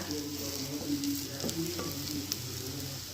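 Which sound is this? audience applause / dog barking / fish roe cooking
fish roe cooking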